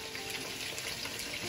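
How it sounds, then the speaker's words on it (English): Chicken pieces frying in a pot hiss and crackle steadily and up close, a continuous bright sizzle with no talking. "all of my chicken have been added to the pot, and it's just here frying away, just frying away"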